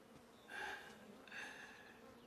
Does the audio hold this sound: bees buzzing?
yes